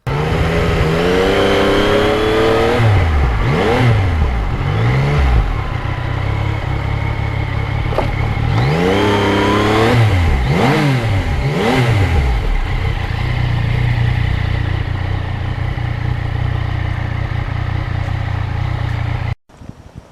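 A 2020 Yamaha MT-09 motorcycle engine on a ride, loud and close, rising and falling through repeated revs and gear changes, then settling to a steady drone before cutting off abruptly at the end, no speech.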